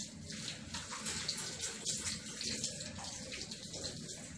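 Tap water runs steadily into a sink during handwashing, a continuous close splashing flow with slight fluctuations and no talk.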